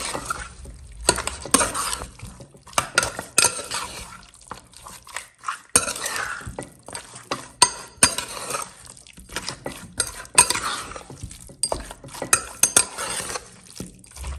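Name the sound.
stirring beef with masala in a pot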